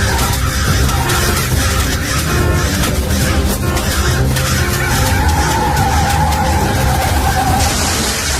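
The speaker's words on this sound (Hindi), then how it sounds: "गाड़ी का सचमुच एक्सीडेंट हुआ" A car skids with a long tire squeal during a road accident, a loud sustained screech over rumbling engine noise that runs for several seconds without letting up.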